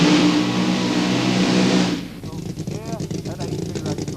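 A race car at the 1989 National Power Sports Festival at Aintree revs loudly past at close range, a roaring engine that sweeps by and falls away into a rattling, fading drone.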